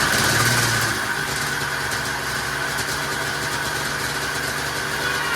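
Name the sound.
Ski-Doo Formula MX snowmobile engine idling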